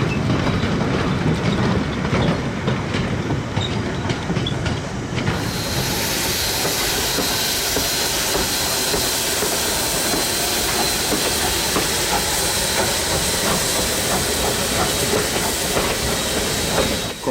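A New Zealand heritage steam train pulls out of Glenbrook station bunker first, loud and close, with steady hissing steam, chuffing and clattering wheels sounding continuously with no talking.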